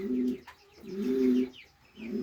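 Pigeons coo nearby in a pigeon loft in low, throaty, rolling calls, three phrases with short gaps between them.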